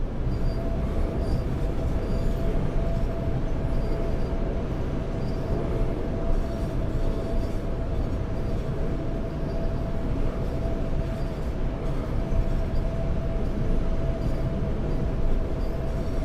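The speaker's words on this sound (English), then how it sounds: "I'm going to bring the train down to 45." A commuter train in Train Sim World 6, running from Grand Central Terminal toward Stamford, rumbles steadily as it slows, with a continuous dense roar of wheels and motors and a faint steady whine, no voices over it.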